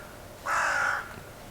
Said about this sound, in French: Le corbeau vous dit bonjour.